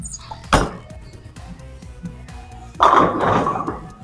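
A bowling ball lofted over the front of the lane: a single solid thud at release, then a louder, broad rolling rumble and clatter that builds and holds near the end.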